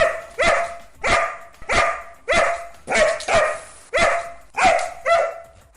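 A dog barks close by in a steady, evenly spaced series of about nine loud barks, each one sharp and separated by brief pauses, with no voices over them.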